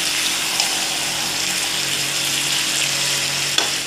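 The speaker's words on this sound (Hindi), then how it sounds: "और चिकन डालने के बाद अब हम इसे अच्छे से गोल्डन फ्राई करेंगे।" Chicken pieces frying golden in a pan for a Bihari-style chicken curry, giving a steady, loud, close-up sizzle that runs unbroken throughout, with a brief clink near the end.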